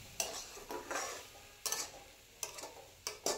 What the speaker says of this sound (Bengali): একটু সময় ধরে আলুটাকে নাড়াচাড়া নাড়তে লাগবে কড়াইয়ের মধ্যে